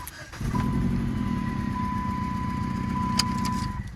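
A 2008 Dodge Caliber engine idles roughly and steadily with a cylinder 1 misfire, a low uneven rumble with a faint constant tone above it, close by and without talk.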